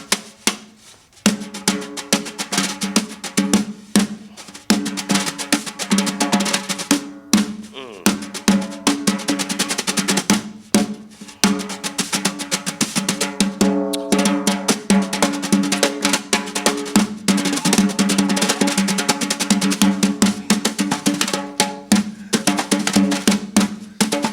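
A drum kit plays a dense, continuous run of crisp rapid strokes imitating the footwork of tap dancers Sammy Davis Jr., Bunny Briggs, Sandman Sims and Arthur Duncan, loud and steady with brief pauses, alone without talk.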